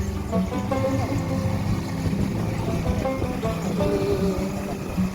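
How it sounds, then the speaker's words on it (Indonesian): A speedboat crossing the water between Balikpapan and Penajam in East Kalimantan, its engine droning steadily and fairly close, with voices underneath. "Speedboat."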